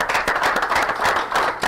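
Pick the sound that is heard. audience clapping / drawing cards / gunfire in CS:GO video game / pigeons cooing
audience clapping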